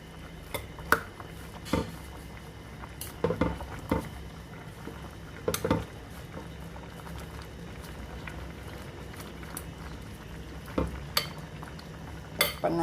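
Jute leaves added to a simmering pot of prawns, with a soft bubbling boil under scattered clinks and taps of a utensil against the pot, fairly quiet and close.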